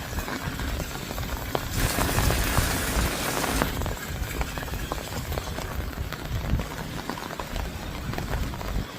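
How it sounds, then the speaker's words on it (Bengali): Steady rain drums on a rooftop during a wet, cold spell, a dense continuous patter with a brief heavier burst early on, close and fairly loud throughout, with no one talking. "ঠান্ডাও লাগতেছে এই বৃষ্টিতে"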